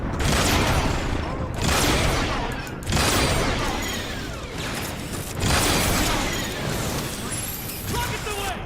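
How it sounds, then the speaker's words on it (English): Rockets fire in the Transformers War for Cybertron video game as repeated loud bursts of explosive whooshes and booms, in waves a second or two apart, with mechanical clatter and voices mixed in. "Rockets away!"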